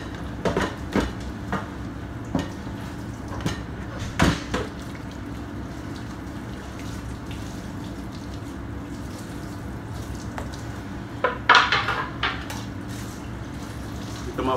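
Dishes and pots being washed at home, scattered clinks, knocks and clatters of cookware over running water, irregular and fairly close, with a busier burst of clattering near the end.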